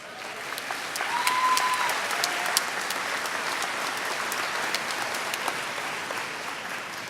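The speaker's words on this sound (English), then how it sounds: "The statistic that always gets the biggest round of applause" Broad applause from a graduation audience in a large hall, a soft, continuous wash of many hands at a moderate distance, swelling slightly early on and then holding steady with a few crisp claps poking through.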